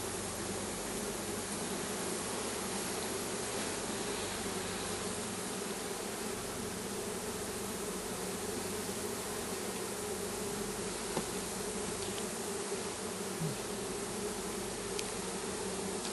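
Dense, steady buzzing of a honeybee swarm around hive frames during a frame changeover, loud and continuous throughout with no talking.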